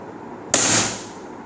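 A single sharp shot from a Zbroia Sapsan .25 PCP air rifle firing a 25.39-grain pellet, a close crisp crack that fades within half a second.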